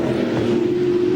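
Touring race car at Lakeside circuit in the 1996 Australian championship, a loud, sustained engine drone held at high revs through a very quick right-hand corner, steady and close without letting up.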